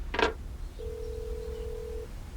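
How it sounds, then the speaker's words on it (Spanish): A telephone being dialed: a short rattling click burst, then a single steady electronic tone held for over a second against a quiet background, with no speech. "Salinas toma el teléfono, marca a la radio."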